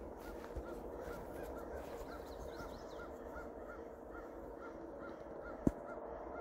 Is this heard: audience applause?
no